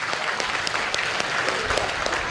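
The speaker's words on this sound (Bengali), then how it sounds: "ওদের জন্য জোরে হাততালি দেবেন একটু" Audience in a hall claps together at a business meeting, a dense, steady wash of applause from many hands, fairly close and continuous for a couple of seconds with no talk.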